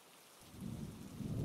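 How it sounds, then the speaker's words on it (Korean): Rain falls steadily, a soft low patter that fades in from near silence and builds gradually into a continuous, moderately quiet wash, with no voices present. "그날은 비가 오던 날이었어요."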